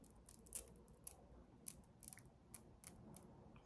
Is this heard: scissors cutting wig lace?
yes